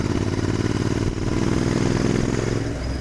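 A Royal Enfield Interceptor 650 fitted with a Lextech aftermarket exhaust is ridden on a road, its parallel-twin engine droning loudly and steadily close by, easing off slightly near the end.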